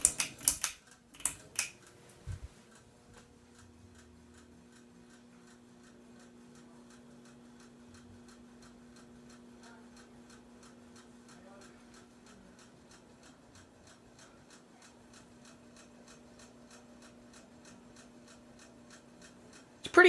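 A cheap 42-inch Aloha Breeze hugger ceiling fan runs on high with a steady low hum and a rapid, regular ticking click, likely from the bearings, after a few louder knocks at the start.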